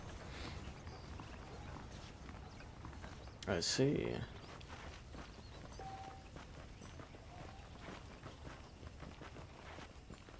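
Steady clip-clop of saddled horses' hooves walking throughout in the video game Red Dead Redemption, with a brief burst of louder noise and a few spoken words partway through.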